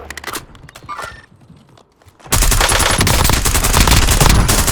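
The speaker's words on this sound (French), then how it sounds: "J'essuie des tirs." Bursts of gunfire from Call of Duty Warzone on Rebirth Island: scattered shots and footsteps, then a sudden loud, sustained stream of rapid automatic fire, close and dense.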